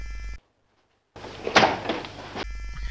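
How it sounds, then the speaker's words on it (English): A door slams shut at a school's Communications Services room: after a brief dead silence, a single sharp, close bang with a short rattling tail. "The door was slammed in our face."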